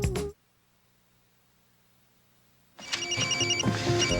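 A telephone rings in a TV drama scene, a short ring that cuts off, then after a silent pause a louder, sustained electronic ringing returns close by.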